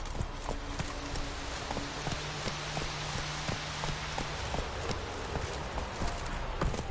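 Roach the horse trotting in a video game, hooves clip-clopping in a steady quick rhythm against a constant rain-like hiss, with no one speaking.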